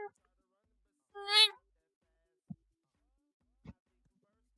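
A person imitates a cat with one short, rising meow, followed by a few faint taps in otherwise quiet surroundings.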